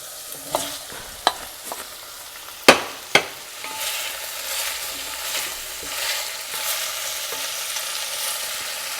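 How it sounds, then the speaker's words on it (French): Onions and bell peppers sauté in a pan for a gumbo with sausage and shrimp, a steady sizzle broken early by a few sharp utensil clacks and scrapes as the vegetables are stirred. "Quand les oignons sont bien tendres, on peut ajouter les poivrons."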